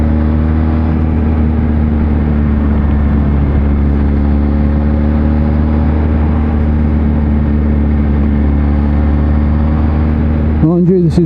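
Steady drone of a 2020 Kawasaki Z H2 motorcycle engine cruising on a town road, loud and close with constant wind rush, a brief rise in pitch at the very end.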